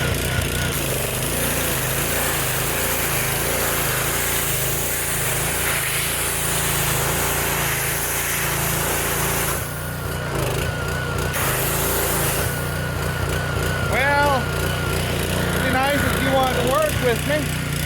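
A small gas pressure washer engine drones steadily nearby with a buzzing, uneven tone while someone degreases a John Deere tractor, dipping briefly as it struggles, with a person talking over it.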